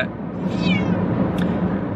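Close, clear meowing from a cat, one drawn-out call over steady low background hum, with no talk.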